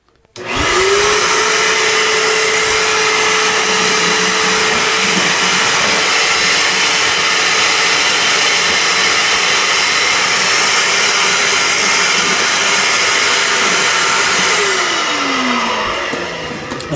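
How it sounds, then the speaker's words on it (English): Vacuum cleaner switched on to clean freshly laid N scale model railway track on cork roadbed, a loud steady whine and rush of air held for about fifteen seconds before the motor winds down. "So I'm going to vacuum this right now."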